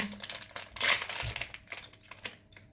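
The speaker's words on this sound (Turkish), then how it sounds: "Tüm paketi yırttım." Crinkling and tearing of a plastic candy wrapper, a few quick close rustles and rips, fairly soft and without talk.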